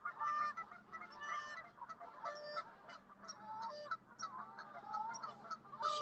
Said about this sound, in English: Let's just film the bird sound.